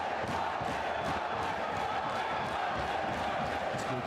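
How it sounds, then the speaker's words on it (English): A Newcastle crowd at a bare-knuckle fight night chants in support of fighter Bartolomei Krol, a steady dense roar of massed voices filling the whole stretch without letup. "Newcastle crowd firmly behind Bartolomei Krol, starting the chant in his support."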